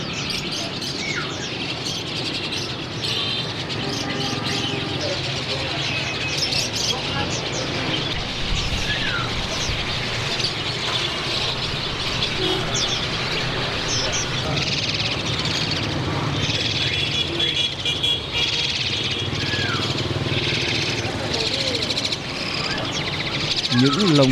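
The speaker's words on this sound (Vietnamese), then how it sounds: "Tiếng của những con chim chưa từng biết đến một cành cây." Many caged birds chirp and tweet continuously in a dense, busy chorus at steady loudness, with short calls overlapping throughout and no gaps.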